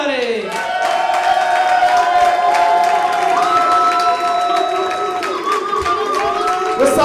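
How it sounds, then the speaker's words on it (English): Comedy club audience at Go Bananas cheering and whooping loudly as a comic is brought up, with a continuous roar of crowd voices and scattered clapping throughout, fairly close. "Everyone, please clap very loud for Mookie, everybody."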